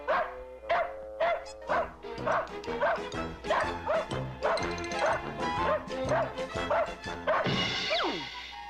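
A small dog in a cartoon yips and barks rapidly and continuously, a loud, close series of high, sharp barks that ends with a crash.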